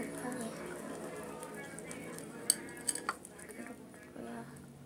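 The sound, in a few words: stirring slime mixture with liquid soap in a bowl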